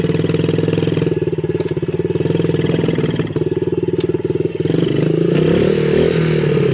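Dirt bike engine running steadily in first gear while riding, a continuous buzzing drone that grows louder and rougher near the end as the throttle opens, close and loud with no talking.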